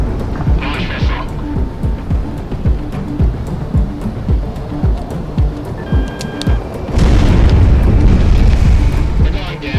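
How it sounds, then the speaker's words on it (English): Missile launch and explosions in the combat flight game Project Wingman, a dense roar of engine and blast noise with repeated booming hits, growing louder and heavier toward the end, with radio chatter heard over it. "Launch missile."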